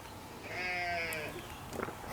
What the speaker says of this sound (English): You can probably hear our goat.